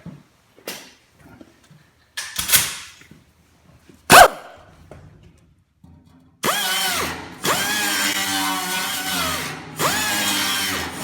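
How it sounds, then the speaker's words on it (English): Power deburring tool whirring against a brake line on a 1953 Chevy pickup during master cylinder work, with a few short clanks and bursts early on, then a loud, steady grinding drone running close up for several seconds. "I'll give it a little deburring action."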